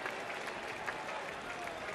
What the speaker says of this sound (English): So the former Giant gets a nice round of applause.